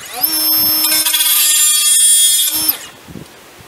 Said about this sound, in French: Je vais essayer de poncer avec cette meuleuse.